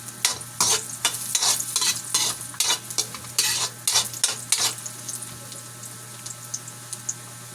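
Banana pieces and ginger stirred in a hot pan for a sauté, with repeated scraping stirs over a steady sizzle, then a quieter sizzle toward the end.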